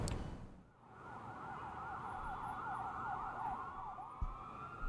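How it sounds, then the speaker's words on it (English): A police squad car siren wails past in a visual novel game scene, a clear rising-and-falling warble holding steady at moderate distance over a low street rumble. "a squad car passes by you, sirens blaring."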